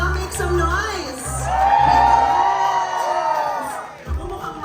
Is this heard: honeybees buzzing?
no